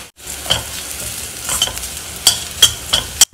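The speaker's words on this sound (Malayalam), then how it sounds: "തേങ്ങയും ചേർത്തൊന്ന് നന്നായിട്ട് ഇളക്കിയതിന് ശേഷം" Grated coconut, onion and crushed chili are stirred in a hot pan with a loud, close sizzle, as the spoon scrapes and clinks against the metal in several distinct strokes, with no one speaking.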